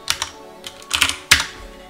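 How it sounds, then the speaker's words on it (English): Quick key presses on a computer keyboard at a Michigan Terminal System mainframe session come in three short bursts of crisp clicks, close and clear, with no voices. "typing F5 will also do this"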